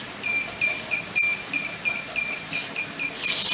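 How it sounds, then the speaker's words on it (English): A high-pitched electronic buzzer on an Arduino ultrasonic-sensor security project beeps in rapid, slightly irregular bursts, about a dozen pulses, loud and close with no talking. "You can see that buzzer is ringing."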